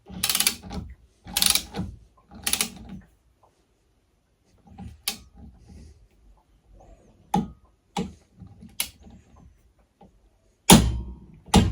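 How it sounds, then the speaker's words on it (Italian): A Lidl 80-210 Nm torque wrench tightening a bolt: several short, sharp ratcheting bursts, then sparse single clicks separated by quiet gaps, close and clear, with no talking. "Stringo con la chiave dinamometrica della Lidl"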